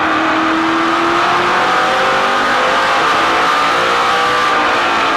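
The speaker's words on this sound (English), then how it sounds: "Listen to how early they get on the gas." Race cars at the Komatsu 300 in 2010 accelerate hard on throttle, a loud, continuous engine roar that builds steadily as they power out of a corner, with no voices.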